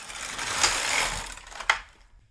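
A GK 370 knitting machine carriage runs across in one quick mechanical pass, a loud whirring rattle of about two seconds that ends with a sharp click, with no talk over it.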